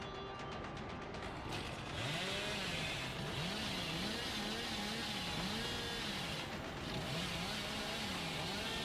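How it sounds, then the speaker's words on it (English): Hillbilly's chainsaw in Dead by Daylight revs with a harsh buzzing engine note that swoops up and down in repeated wavering cycles, sustained and fairly loud against a steady background hum of the game. "Gotta be a little patient with our chainsaw."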